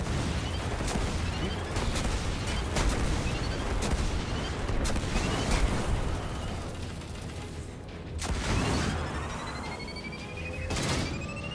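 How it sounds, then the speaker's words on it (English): Charged cannon blasts in the video game Destiny 2, a dense stretch of repeated sharp booms and crackling impacts over a busy, continuous battle din. "this cannon you can charge up to an immense amount and watch your enemy literally explode"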